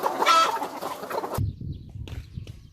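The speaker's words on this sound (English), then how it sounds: "So enjoy the melody from the chickens." Laying hens about 54 weeks old cluck close by on a farm, starting with a louder burst of cackling and then settling into softer, scattered clucks.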